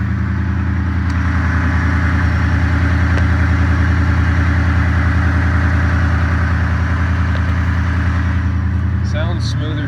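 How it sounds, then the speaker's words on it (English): A 2019 Ford F-150 pickup idles after an AMSOIL oil change, its engine holding a loud, even, low rhythmic rumble close by for the whole stretch, with a faint clicking tick near the end. "I'm gonna start this truck up."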